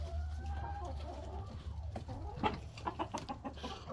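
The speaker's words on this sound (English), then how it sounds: "I don't have fighting chickens. I have fighting roosters" Roosters clucking outdoors among farm animals, a run of short, repeated clucks growing busier toward the end, fairly close over a low steady background hum.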